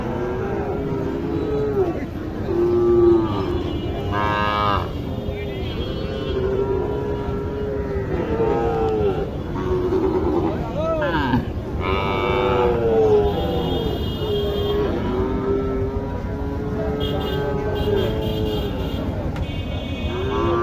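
Sahiwal cattle low at a busy cattle market at Mataji Haat in Naogaon, with several drawn-out moos rising over a constant crowd murmur and nearby talk.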